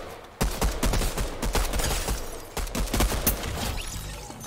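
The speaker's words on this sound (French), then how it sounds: "Tiens d'ailleurs le nouveau pistolet. Le pistolet de poing." Pistol gunfire rings out in the video game Fortnite: a rapid series of sharp, loud shots in uneven bursts, heard on their own without talk.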